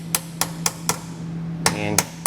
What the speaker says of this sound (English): You can just take a hammer